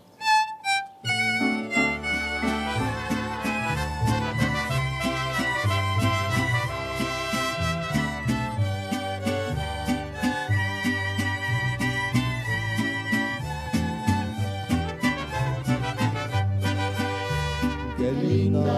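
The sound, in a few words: mariachi band strolling and playing the song Las Mañanitas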